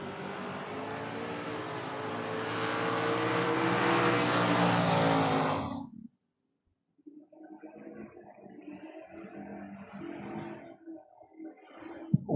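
Camaro drag race cars launch and accelerate hard with a loud, roaring engine note that ends abruptly, followed by quieter, rumbling engine and crowd noise.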